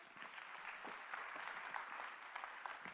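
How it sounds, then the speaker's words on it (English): Audience applause at a heritage careers expo arts day, a steady patter of many hands clapping at moderate, fairly distant level for the whole stretch, with no talk over it. "A round of applause."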